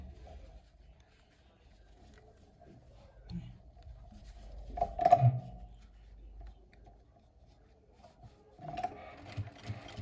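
A sewing machine stitches a pot holder made from leftover fabric scraps in two short bursts of rapid mechanical whirring, separated by quiet pauses and soft handling noises.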